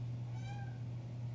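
Cat giving a single short meow, fairly faint and close, over a steady low electrical hum in an indoor room, with no talking.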